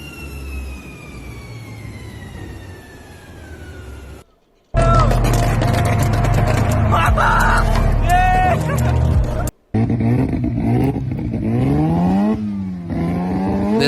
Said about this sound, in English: this right here is probably one of the best sounding 350Zs I've ever heard.